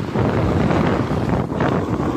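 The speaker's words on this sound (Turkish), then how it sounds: "Biraz rüzgar olsa da" Steady wind on a ski slope at Erciyes Ski Center rushes and buffets the microphone for the whole moment, a broad continuous roar with no voices.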